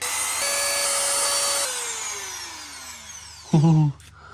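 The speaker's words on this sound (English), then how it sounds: "I can't find like a clamp or anything to hold it while I drill it" A power drill whirs steadily for a few seconds, then winds down into a short, louder grinding burst as it bites into the piece, braced against gaps in a brick wall, before stopping.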